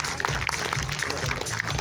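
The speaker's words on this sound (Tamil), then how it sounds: "மேடைக்கு ஒரு பலத்த கரகோஷத்துடன் வரவேற்கலாம்" Applause from an audience greeting a speaker at an all-India real estate federation event, steady crowd clapping throughout, moderately loud with a faint murmur of voices beneath.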